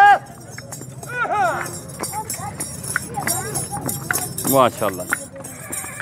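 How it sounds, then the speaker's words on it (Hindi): A dancing mare at a horse market, with hoof clip-clops and whinnying calls mixed in with voices of people talking and urging nearby. "खूबसूरत डांसर घोड़ी।"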